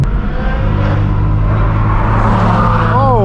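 Supercar engines idling and revving at a hypercar rally, heard from close by as a loud, steady, throaty rumble that swells slightly toward the end.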